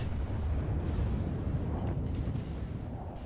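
A naval gun salvo fires in the World of Warships video game, a heavy low rumbling boom that swells and rolls on for a few seconds before slowly fading.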